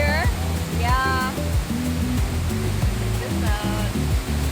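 Waterfall in Ubud, Bali, pouring as a steady broadband rush of falling water, with a voice speaking over the roar throughout.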